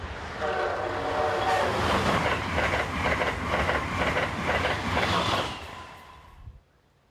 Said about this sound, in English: it's clear that a Siemens ACS 64 is on the way in our last scene at Edgewood